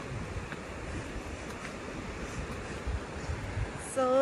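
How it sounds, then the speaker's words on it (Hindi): A river flows through mountain scenery in Roing park, Arunachal Pradesh, as a steady broadband rushing wash. It sounds fairly close and continuous, with a faint brief whistle-like tone at the end and no clear speech. "सो ये नदी जो बह रहे हैं उसकी आवाज़ बहुत अच्छा आ रहा है।"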